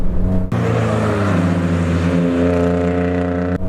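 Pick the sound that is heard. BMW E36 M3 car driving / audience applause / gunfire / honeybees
BMW E36 M3 car driving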